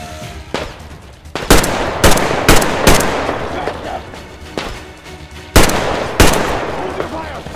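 Gunfire in the video game Metro Exodus Enhanced Edition, loud sharp shots cracking out in irregular bursts and single blasts, each followed by a short echoing tail.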